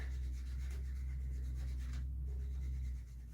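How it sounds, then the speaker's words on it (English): Hand sanding with 180-grit Craftsman sanding medium, a quiet continuous rubbing hiss over a loud low hum, with a brief dip midway and fading slightly at the end. "this is an incredible sanding medium"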